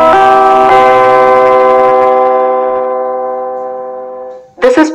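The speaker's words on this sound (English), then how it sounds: "So we are showing how the bell rings for period number 5." An automatic school bell timer, model SB-204, plays its period-five melody through a speaker, a loud ringing chime-like tone with two struck notes that sustain and slowly fade before a brief click at the end.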